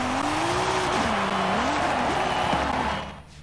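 A Toyota Supra drifting in Forza Horizon 5, its engine roaring steadily while the tires squeal in a long wavering screech, loud and close, dropping away at the end.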